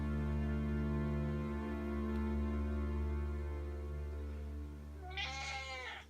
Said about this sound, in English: There's my cat for everyone who's interested.